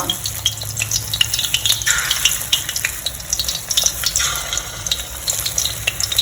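Featherback fish cakes frying in hot oil give a steady, close sizzle with crackling pops and occasional stirring or scraping sounds.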